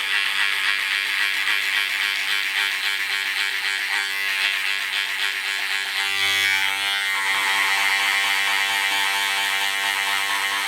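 Electric hair clippers with no guard cutting a skin fade, a steady close high-pitched buzz running continuously, its tone shifting slightly as the blade moves through hair.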